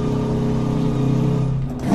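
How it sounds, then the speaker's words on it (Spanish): Diesel engine of a Kenworth K100 truck running on a road in Santander, Colombia, with a steady mid-pitched drone resembling an old Detroit Diesel, continuous and close throughout. "Cuando escuché este motor dije, Detroit Diesel de los viejitos, Dina."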